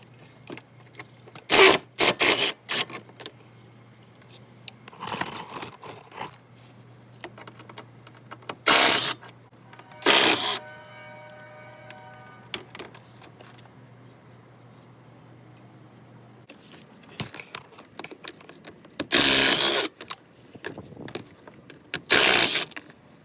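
Bolts are removed from the front bumper of a 2014 Ford Explorer. Several short, loud bursts of tool noise sound close up, separated by quiet pauses with faint clicks and handling sounds.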